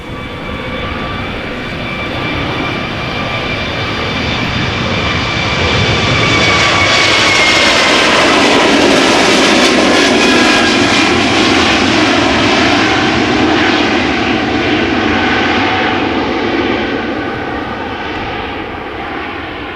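Loud jet engines roar steadily as an airliner powers up for takeoff at Amsterdam Schiphol Airport, the rushing drone swelling to a peak midway and then easing slightly.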